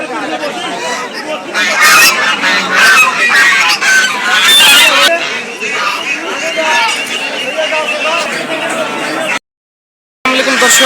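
A flock of Chinese geese honk loudly and continuously, a dense overlapping clamour of nasal calls with human chatter mixed in, ending in a short silence.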